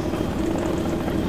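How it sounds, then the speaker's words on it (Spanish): Helicopter arriving in the video game Zoo Tycoon, a steady low rotor drone with a whirring hum, loud and continuous. "Ya llega el helicóptero."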